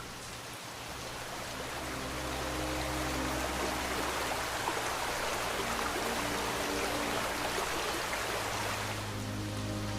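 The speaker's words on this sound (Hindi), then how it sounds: "उसमें तेजी से बहता हुआ पानी बहुत डरावना लगता है।" Fast-flowing river water in an animated story, a broad steady rushing roar that swells in after a moment and holds continuously, loud and close, with a low hum underneath and no voices.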